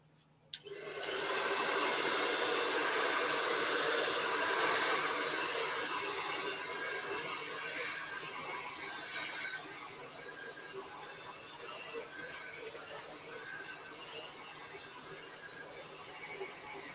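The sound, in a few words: blow dryer drying paint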